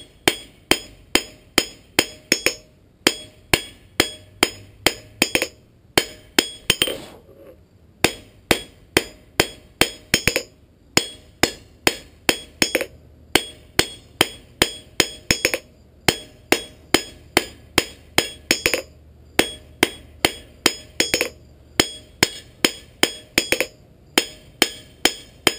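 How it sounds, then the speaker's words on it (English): Steady, evenly spaced hammer blows on hot steel being forged into a punch, dozens of sharp metallic strikes in a brisk rhythm with a few brief pauses, no talking. "It doesn't take a lot of hammer pressure"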